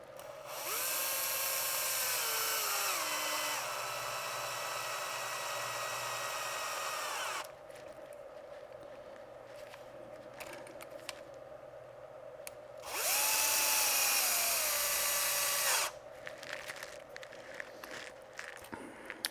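A power drill backs 2 mm screws out of a Traxxas Sledge chassis during an M2C chassis install, in two loud, steady whirring bursts, a long one and a shorter one, with quiet pauses between.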